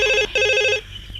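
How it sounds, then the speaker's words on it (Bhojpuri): A telephone rings with a loud, near electronic ring in two bursts separated by a short gap, then stops, leaving quiet room background. "गोविंदपुर थाना में फोन लगावा।"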